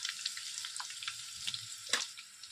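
Cumin seeds and garlic crackle in hot oil with close, lively popping and spitting over a steady sizzle, and one louder burst near the end.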